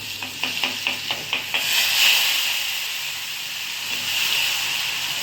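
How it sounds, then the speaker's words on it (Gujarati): Garlic is added to a hot oil tempering with cumin, mustard seeds and asafoetida for a Gujarati vegetable dish. A burst of loud sizzling comes first, with several quick stirring scrapes, then a steady hiss of frying. "વઘાર ન બળવો જોઈએ જરાય."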